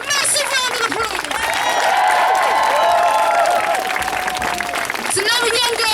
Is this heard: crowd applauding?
yes